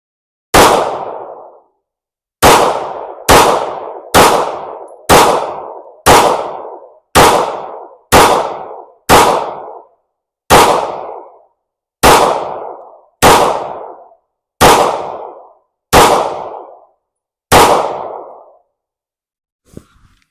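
A Kimber KDS9c compact 9mm pistol fires thirteen loud, sharp shots at uneven intervals, slow at first and then quicker. Each crack rings out and decays over about a second in the open air, with no talking.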